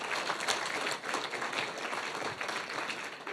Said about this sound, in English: So applause Ruth